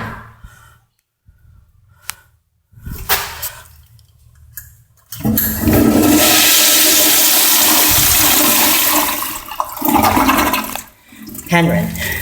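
A Kohler Bardon toilet flushes in a park restroom at Lighthouse Point Park, opening with a few faint clicks and handling sounds before a loud, close rush of water that roars for several seconds and then tapers off.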